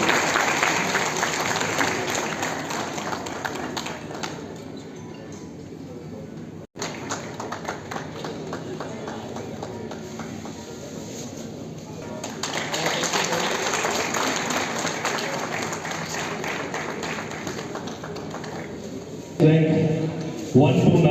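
A seated audience gives sustained, energetic applause for a family being honoured at a ceremony celebrating daughters' achievements, with the clapping swelling and easing over a long stretch, a brief cut partway and voices mixed in near the end.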